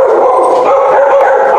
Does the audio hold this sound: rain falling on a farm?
no